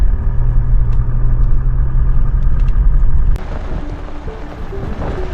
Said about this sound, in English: So let's start driving.